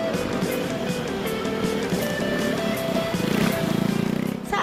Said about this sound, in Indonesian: Stoppie duduk dipraktikkan Angga dengan mudah.